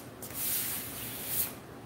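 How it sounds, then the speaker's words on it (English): Hand sanding with 400 grit sandpaper over a gesso-sprayed surface, two short rubbing strokes with a soft raspy hiss, close and alone. "I just sanded it with a 400 grit"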